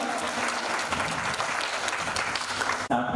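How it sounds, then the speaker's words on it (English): An audience applauds to welcome a speaker onto the stage at a seminar, with loud sustained clapping from many hands that cuts off abruptly near the end. "So big round of applause."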